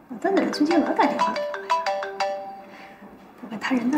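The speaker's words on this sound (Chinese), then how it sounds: "老邓怎么最近老打电话？" A mobile phone rings with a melodic ringtone for an incoming call in an urban family drama scene, a person speaking over the repeating tones nearby.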